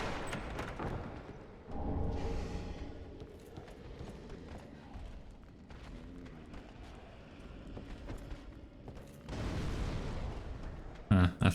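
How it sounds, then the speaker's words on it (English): Explosions in the Dark Souls 3 video game: two heavy booming bursts a few seconds apart, the second near the end, over a low rumbling game soundscape, with someone talking at times. "I thought that explosion would reach."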